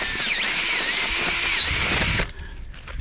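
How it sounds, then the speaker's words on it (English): A cordless drill fitted with a 2-inch auger bit whines steadily and loudly, its pitch wavering as it bores, then cuts off abruptly near the end. "2-inch auger bit. And a cordless drill."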